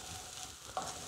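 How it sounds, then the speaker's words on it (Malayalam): Grated coconut roasting in a little coconut oil in a pan for Kerala mixed vegetable theeyal, a steady soft sizzle with a brief clink of stirring near the end. "നല്ലതുപോലെ ഒന്ന് വറുത്തെടുക്കണം"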